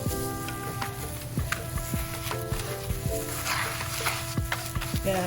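Makeup powder being stirred into a homemade tropical punch lip scrub, a series of quick, close scraping and tapping strokes in a small container, with no talking.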